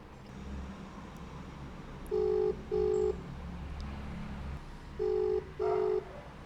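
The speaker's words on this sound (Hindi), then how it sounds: "देन मैं कॉल करता हूँ" A phone call rings out on the line: two pairs of short double ringback tones, evenly spaced, sounding clearly over a faint background hum with no one speaking.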